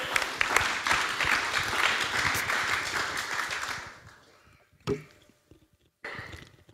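A church congregation breaks into applause that is steady and fairly loud at first, then tapers off, leaving a few scattered claps and small sounds afterward.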